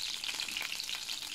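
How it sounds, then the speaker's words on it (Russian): Meat searing in a frying pan, a steady close hiss and crackle of hot fat without pause or voices. "Мясо с двух сторон у нас обжарилось."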